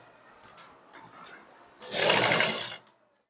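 An electric sewing machine runs a short burst of stitching along a sleeve lining edge, close and steady for about a second after a few light handling clicks.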